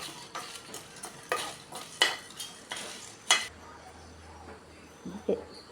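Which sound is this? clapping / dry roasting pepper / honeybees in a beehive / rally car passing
dry roasting pepper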